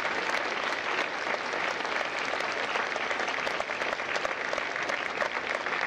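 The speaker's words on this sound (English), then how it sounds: "Ladies and gentlemen, a round of applause for their dedicated service to Corps and country." Sustained, dense applause from a large audience at a Marine Corps recruit graduation ceremony at MCRD San Diego, steady and even throughout with no speech over it.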